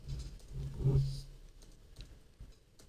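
Soft, rapid keystrokes on a computer keyboard patter near the microphone at low level, with a low murmur underneath.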